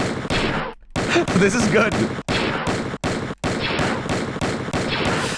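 Repeated bursts of gunfire ring out in an N64 video game, loud and choppy with brief gaps between volleys, and someone speaks briefly over them.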